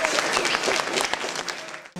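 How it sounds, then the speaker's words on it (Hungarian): School audience applauding adults at a primary school health education month event, dense continuous clapping from a crowd that cuts off abruptly at the end. "kérek egy tapsot ezeknek a felnőtteknek"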